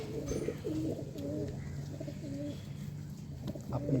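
Pigeons cooing close by, repeated soft low coos in a steady rolling rhythm with a few faint chirps, and no talking.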